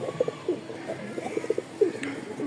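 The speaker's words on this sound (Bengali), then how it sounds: "5 পিস কবুতর দেখেন" Five pigeons kept for sale in Mirpur-1, Dhaka, coo in soft, repeated low calls, close and fairly quiet, with no talking.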